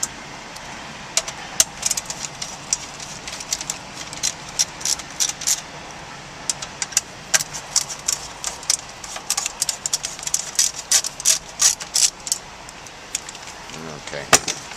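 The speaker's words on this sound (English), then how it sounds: "remove the remaining 3 screws that secure the stereo" Screws are worked loose from the stereo bracket of a Toyota Camry, scattered small metallic clicks and ticks of a tool close by, under a steady hum with some talk.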